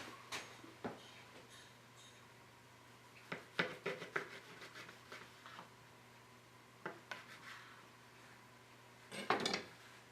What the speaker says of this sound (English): roll it up, place it seam side down, and we can give it a slice